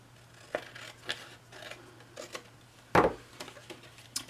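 Scissors cut decorative designer paper along score lines while making a card box, several soft snipping crunches spaced irregularly, with one louder, sharper cut in the middle, close and quiet.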